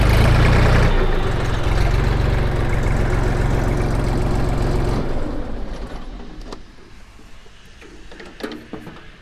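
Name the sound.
Jinma 3244HS mini tractor engine idling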